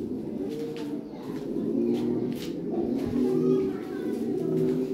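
A European Lahore pigeon in full breeding condition coos in a steady run of low, rolling throaty calls, close and continuous with faint room noise behind.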